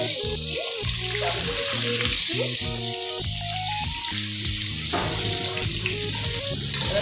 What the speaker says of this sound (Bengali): ভালো করে এগুলোকে ভেজে নেব টমেটোটা যাতে নরম হয়